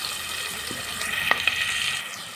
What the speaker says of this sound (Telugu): ఇప్పుడు ఒకసారి కలిపేసుకున్నానండి ఇది బాగా ఫ్రై అయ్యే వరకు మంచిగా